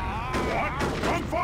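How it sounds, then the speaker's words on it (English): Scout shotguns fire at Slugga boys in Dawn of War 2: Retribution, with a couple of broad blasting bursts and clattering battle noise under a talking voice. "The scout shotguns messing up those Slugga boys as they try to decap"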